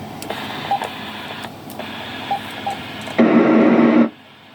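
A Kenwood TM-251E radio picks up its own transmitted audio: hiss carries faint tones and muffled sound, swelling louder near the end before abruptly cutting to quiet.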